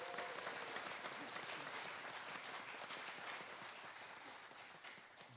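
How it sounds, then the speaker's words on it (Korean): Sustained applause from an audience at a Korean anniversary celebration event, steady and fairly dense, tapering slightly toward the end with faint voices mixed in. "그 LA에서 온 열 분들 위해서 박수 한번 보내주시기 바랍니다."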